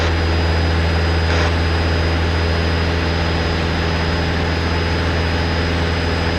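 A training airplane's engine runs at full power during an overshoot climb, producing a loud, constant, droning roar with a steady tone and no letup, heard close from inside the cockpit.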